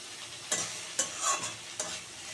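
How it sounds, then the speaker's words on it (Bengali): Eggplant, beans and capsicum being stir-fried for sambar give a soft sizzle under four distinct scraping strokes of a spatula against the pan, spaced about half a second apart. "পুরো বেগুন কফি বিনস তারপর ক্যাপসিকাম সব ভাজা হয়ে গেছে"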